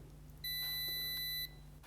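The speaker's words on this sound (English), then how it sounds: "Press and hold the transmitter button on the safety edge for a few seconds. You'll hear another single beep." A single steady electronic beep from a RollMatic receiver pairing with a wireless safety edge transmitter, lasting about a second, clear and alone against a faint background hum.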